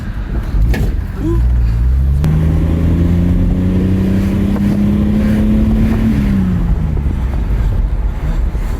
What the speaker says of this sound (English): so I'm gonna take it out for a drive and see if it makes it back here